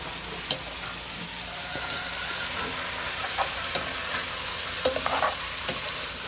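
Meat frying in a pan with tomato and chopped chili, a steady hissing sizzle throughout with a few sharp crackles and light stirring taps.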